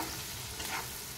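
Garlic and ginger paste fries in hot mustard oil with cumin and bay leaf, a steady loud sizzle with scraping stir strokes running throughout, no voices.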